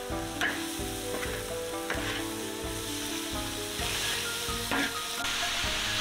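Red long beans stir-fry with pickled chili in a wok, a steady loud sizzle broken by regular scraping stirs, with no talking.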